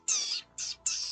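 A person imitates a bird tweeting during a tabletop Dungeons & Dragons session, giving three close, high-pitched squawking chirps, the first longest, with no other sound around them.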